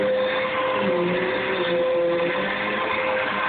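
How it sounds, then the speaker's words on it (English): A vacuum cleaner running steadily at close range, a constant whirring drone with a sustained high motor tone and no breaks. "Why do dogs hate the vacuum cleaner so damn much?"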